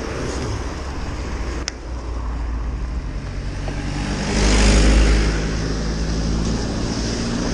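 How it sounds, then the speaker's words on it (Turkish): A car approaches along a quiet road, its rumble swelling to a peak midway and then easing off, over steady wind and outdoor ambience, with no talking. "Araba geliyor yine."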